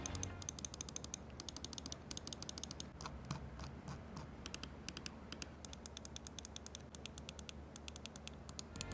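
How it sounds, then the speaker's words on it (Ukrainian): Rapid, quiet ratcheting clicks of a rubberized gaming mouse scroll wheel with distinct notches turning in bursts, close and crisp, with brief pauses between spins. "Колесо прогумлене, має чіткі відсічки, крутиться доволі тихо"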